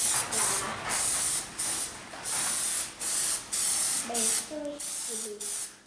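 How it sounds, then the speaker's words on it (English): Plasti-Dip spray coating being applied to a Tesla Model X wheel, heard as repeated loud aerosol hiss bursts of about half a second to a second each, with brief gaps between, close up and with no talking. "we're going to do a little pre-spray on the plastic there just to get the coating out."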